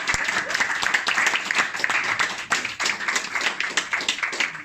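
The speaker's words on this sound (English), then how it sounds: "Let's give Jonathan a big round of applause." An audience at a humanist society talk gives a speaker a round of applause: dense, steady clapping from many hands close by, loud and continuous throughout.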